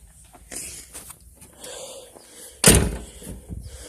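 A rusty, rotted 1991 Ford F250 XLT Lariat pickup with no engine has its door swung shut once, a single loud solid slam following quiet shuffling.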